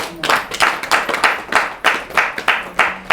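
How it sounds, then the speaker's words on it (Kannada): A prayer service congregation claps in unison, steady rhythmic group claps repeating about three times a second, loud and close with no voices over them. "ಚಪ್ಪಾಳೆ ಹೊಡೀರಿ."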